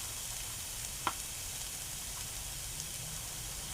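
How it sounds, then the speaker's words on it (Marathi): Quiet, steady sizzle of red masala spice in a hot pan while cooking udid papad rolls, with a single faint tick near the middle and no talking. "आता मी टाकतो लाल मसाला"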